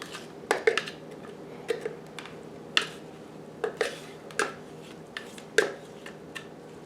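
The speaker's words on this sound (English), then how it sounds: "I'm just going to keep on chopping the rest of the cucumbers" Rhythmic clicks and clacks of a food chopper working through cucumbers, a dozen or so sharp hits spaced unevenly over a steady background hum.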